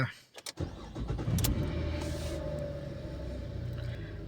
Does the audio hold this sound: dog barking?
no